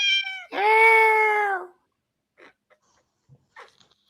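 A cat lets out a long, loud, drawn-out meow close by, followed by a few faint soft sounds.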